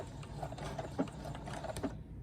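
A sewing machine stitches a zipper onto fabric, running with a steady, fast mechanical chatter at close range, alone without any voices.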